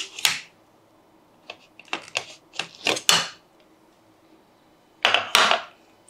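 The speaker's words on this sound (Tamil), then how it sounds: "இப்போ மெதுவாக மூடியை திறந்து பார்க்கலாம்." A pressure cooker lid is eased open after the pressure has subsided, with rice and lentils (arisi paruppu sadam) inside: a few sharp metallic clicks and clanks, a pause, then two louder clanks close by.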